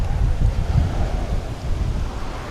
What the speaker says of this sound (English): That is mucho windy here.